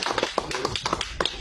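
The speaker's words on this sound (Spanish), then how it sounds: "para el cual pido un fuerte aplauso por su esfuerzo" A small audience at a political campaign event before elections claps in a brief, sparse patter of individual hand claps, fairly close and without voices.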